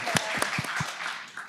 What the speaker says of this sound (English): let's give a round of applause for creating this product